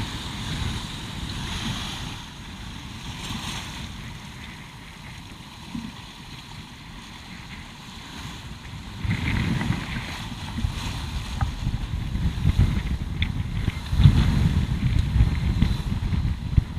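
Large Atlantic sea waves surge and crash around a sailing boat under way, a continuous rushing wash mixed with wind buffeting the microphone, swelling louder in the later seconds.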